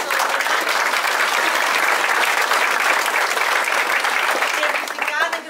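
An audience at a theatre performance breaks into loud, sustained applause, dense clapping filling the hall evenly before tapering slightly and giving way to a voice at the end.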